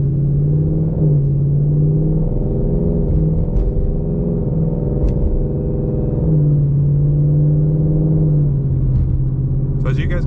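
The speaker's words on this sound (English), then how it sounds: "This transmission is shifting so smooth." A 2020 Ford Mustang GT with a 10-speed automatic on a 91-octane tune accelerates hard from inside the cabin, its engine drone rising and dropping as the gears change, loud and continuous throughout.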